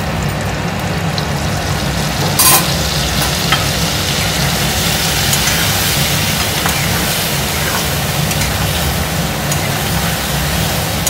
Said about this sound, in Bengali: আলু আর পটল ভাজা হয়ে গেছে, এবার আমি মশলাটা দিয়ে কষিয়ে নেব ভালো করে।